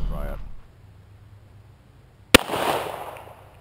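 One sharp, loud gunshot comes from a Smith & Wesson Governor .410/.45 revolver at an outdoor range, followed by a short fading echo. A brief voice is heard at the start, before a quiet pause leading up to the shot.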